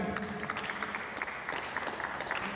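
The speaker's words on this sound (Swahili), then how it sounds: "naomba tupige makofi kwa panel" An audience applauds a panel at a youth-success talk event, a steady wash of clapping from many hands at moderate volume, with no voices over it.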